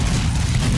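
Team Fortress 2 gunfire, a dense continuous burst of rapid shots, loud and close, filling the whole brief moment without pause.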